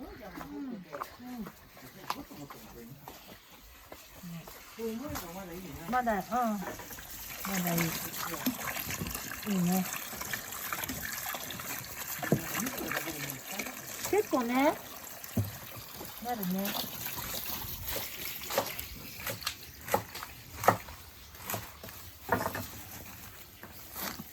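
Nozawana greens being washed in running water in a Japanese mountain village, with steady trickling and splashing close by under frequent voices of people talking.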